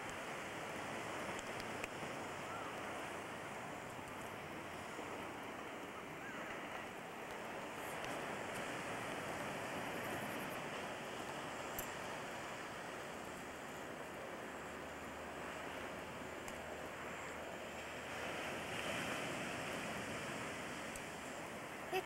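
Ocean surf heard from a back deck on a cloudy evening, a steady broadband wash of waves rolling in continuously at moderate distance, fairly faint, with no voices.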